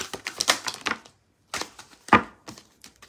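Quick bursts of riffling card shuffles, close and crisp, two clusters separated by a brief pause.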